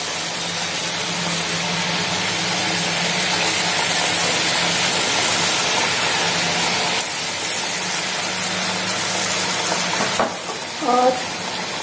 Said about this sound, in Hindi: ब्राउन होने तक हम तलेंगे।